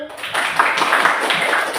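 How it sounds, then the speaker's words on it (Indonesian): Students in a classroom clapping together, a short burst of quick overlapping handclaps lasting under two seconds, fairly close and steady in level. "Oke, tepuk tangan."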